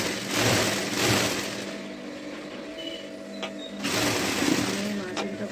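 A sewing machine stitches a blouse along its margin in a loud, rapid mechanical whirr, running in bursts that rise and ease off, with a voice talking over it.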